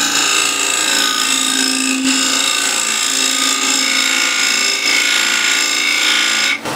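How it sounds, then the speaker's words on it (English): Square end scraper cutting a recess into wood spinning on a lathe, a loud continuous whirring scrape holding steady throughout with a brief dip near the end. "What I like to use to cut the recess is this square end scraper."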